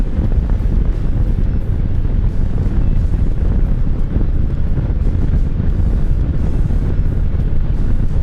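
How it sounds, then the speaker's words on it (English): Strong wind buffeting a microphone outdoors on a rural road near a marsh, a loud constant low rumble with roaring gusts and no voices. "It is a nice windy day today."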